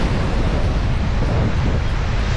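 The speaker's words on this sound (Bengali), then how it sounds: "সমুদ্রের যে পাথরের গায়ে এসে সাপটা বা যে ধাক্কা লেগে যে শব্দটা হচ্ছে, খুব সুন্দর লাগছে একটা।" Sea waves crash against rocks at Tajpur beach in West Bengal, a loud continuous roar of surf and wind filling the whole clip with no voices.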